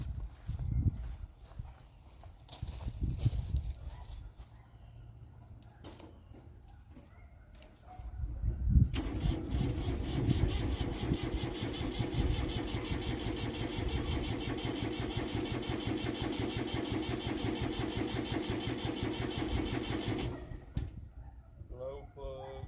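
A small tractor's diesel engine cranks and catches, then runs at a steady, rattling idle for several seconds before cutting off.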